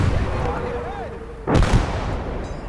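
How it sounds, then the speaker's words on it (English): Cannon fire in a war-film battle scene: one loud close blast followed by a rumbling echo, preceded by a faint whistling sweep. "Cannon fire incoming!"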